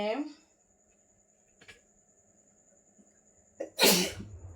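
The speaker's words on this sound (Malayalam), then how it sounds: "പൊടിയിട്ടാണ് തുമ്മുന്നത്" A single sharp sneeze near the end, triggered by turmeric and chili powder while fish is being cooked in a home kitchen, preceded by faint kitchen clatter and a brief voice at the start.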